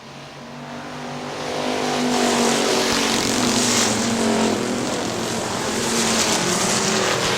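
Factory stock cars racing at Hartford Speedway Park in Hartford, Michigan, their engines roaring steadily and loud as the pack sweeps past, a dense continuous rumble swelling through the stretch.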